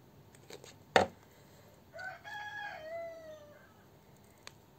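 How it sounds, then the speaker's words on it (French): A rooster crows once at moderate distance in a farmyard with laying hens, the drawn-out call rising and then trailing off, preceded by a sharp knock and surrounded by quiet background. "Ça, c'était le coq."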